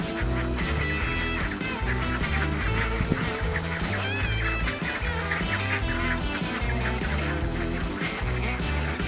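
Ducks quacking inside a mobile duck fence, a dense, loud and continuous chorus of overlapping calls with no talk.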